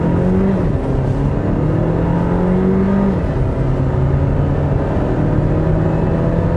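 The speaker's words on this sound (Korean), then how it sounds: "회전수를 조금 높여가지고 런치 컨트롤처럼 이 상태에서 이렇게 올려가지고" A 2023 Renault XM3 TCe260 Inspire revving up for a launch-control style start, a loud steady engine drone with rising and stepping pitch as it pulls away, close and without talk.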